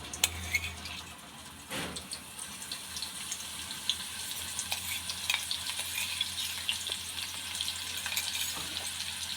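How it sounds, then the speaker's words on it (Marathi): Ground green chili and garlic paste frying in hot oil for a village-style tandulja leaf bhaji, a faint steady sizzle with a splashy hiss and light stirring, heard alone. "या तेलामध्ये हे आपण मिरची आणि लसूण जे वाटून घेतलं आहे ते टाकायचं"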